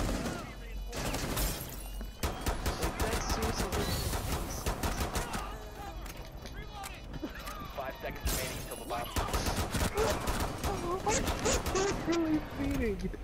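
Gunfire in a Rainbow Six Siege match, dense rapid automatic bursts and crashing impacts in quick succession, loud and busy, with excited voices talking over it.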